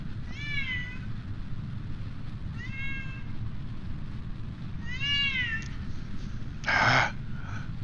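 A house cat meows three or four times, each call a clear rising-falling whine heard close by over steady low background hum, followed by a brief louder rustling burst near the end.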